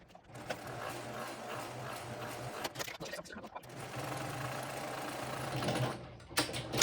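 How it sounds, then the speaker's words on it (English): A sewing machine runs steadily while stitching backpack pieces along a seam, a close, quiet mechanical whir that stops briefly midway and then resumes, with a few clicks near the end. "go ahead and sew these pieces on using your seam allowance"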